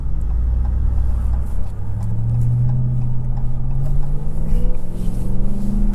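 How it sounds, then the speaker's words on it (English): A supercharged RAM 1500 TRX Havoc Edition pickup making a slow U-turn, its engine a deep, steady, rumbling drone that swells gradually with a faint rising supercharger whine. "Oh, that supercharger."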